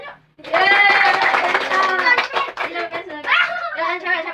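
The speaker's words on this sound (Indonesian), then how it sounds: "Tepuk tangan yuk." Children in an elementary school Islamic studies class clap their hands in a quick, uneven patter while chanting and singing loudly together, the voices dominating nearly throughout.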